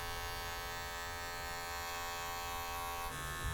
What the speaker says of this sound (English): You can use the corner of the clipper as well.